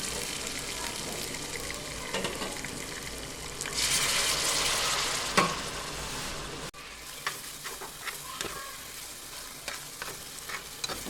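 Cinnamon, cardamom, cumin and coriander spice paste fried for bhuna khichuri, sizzling loudly and steadily in oil with stirring scrapes and a few sharp utensil knocks, swelling in the middle and then dropping to a quieter sizzle.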